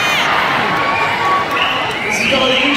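A concert audience at a show in Canberra cheers and whoops loudly and continuously, a dense wash of crowd noise with individual shouts and whistles rising above it.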